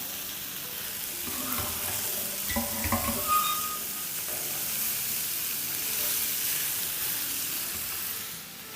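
Chicken chilli with onion and green and red bell peppers is stirred in a hot pan, a soft continuous sizzle with a few scraping stirs near the start.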